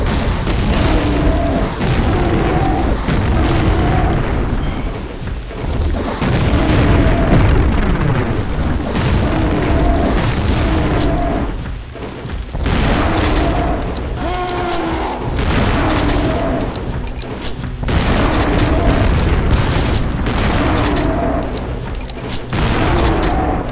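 Rocket launcher blasts boom repeatedly in Duke Nukem 3D, with heavy explosions landing in rough bursts a few seconds apart over a constant loud roar of game noise.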